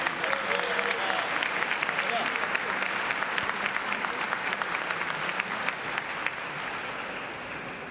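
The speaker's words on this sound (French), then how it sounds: "Donc on peut aussi l'applaudir et le remercier" A congregation applauding at an Assumption Mass, steady dense clapping filling a large reverberant church for several seconds before slowly fading, with no clear voice above it.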